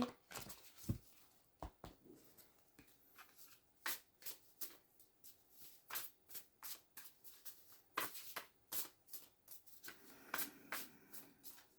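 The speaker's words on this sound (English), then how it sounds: "I'm going to pull from my oracle cards as well." Oracle cards being shuffled and pulled by hand, a series of soft, close riffling flicks and snaps at an irregular rhythm, quiet, with no talk.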